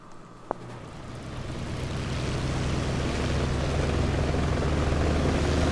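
A video game helicopter spools up for a test flight, its rotor and engine drone building into a loud, steady roar after a brief click at the start, with no voices.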